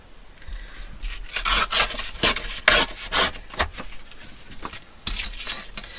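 Close, rough tearing and rubbing of paper strips being ripped off during a papercraft folio project, in several short uneven bursts with quiet gaps between.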